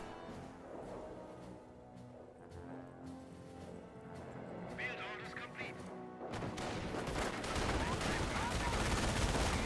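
In a Company of Heroes match, bursts of MG42 machine gun fire and other gunfire ring out amid battle noise, growing louder and denser toward the end, with a commentator talking over it.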